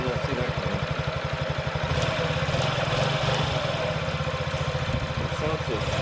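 A 2017 Honda Ruckus scooter engine idles with a steady, even low putter and slight mechanical clatter, close and continuous, with a voice faintly present.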